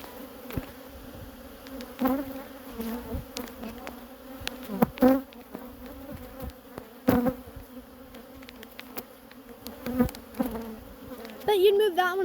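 Honey bees swarm around an open hive during a hive split, a steady close droning buzz with individual bees whining past the microphone now and then, no talking heard.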